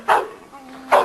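A dog called Pistola, about 17 months old, gives two sharp barks close by with a short pause between them, in an outdoor yard.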